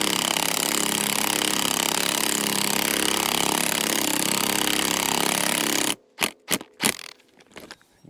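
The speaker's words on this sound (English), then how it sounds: "on the impact and that'll wind it in for us" An impact driver winds a screw into a netting gate with a loud, continuous rattling hammer for about six seconds, then stops, followed by a few short bursts.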